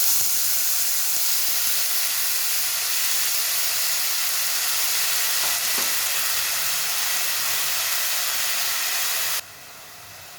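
Tomatoes for a tomato chutney sizzle loudly in a hot pan, a steady close hiss of frying that holds for the whole clip and then drops abruptly to a quieter level near the end, with no talk.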